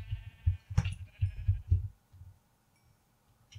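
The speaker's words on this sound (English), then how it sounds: "Oh, wow, that's a lot of sheep." Sheep bleat repeatedly in a Minecraft UHC match, a cluster of low, throaty baas in quick succession that then fades into near silence, with no talk over them.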